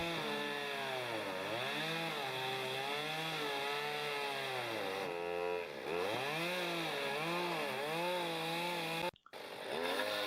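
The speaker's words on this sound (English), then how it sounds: "All the chainsaws running on my audio program" Chainsaws roar continuously while trimming the edges of log floor planks at an off-grid cabin build, their engines revving up and down in wavering pitch, with a sharp knock near the end.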